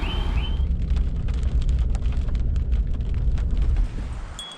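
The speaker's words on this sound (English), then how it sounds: "it's starting to rain, which is going to be snow in about 2 hours" Rain begins falling on an elk hunting camp in the Idaho mountains, a dense steady patter and hiss on surfaces nearby, continuous and fairly loud, easing slightly at the end.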